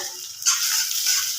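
Leftover masala with finely chopped coriander hits hot oil, giving a sudden bright sizzle that holds steady and close for about a second, with no voices.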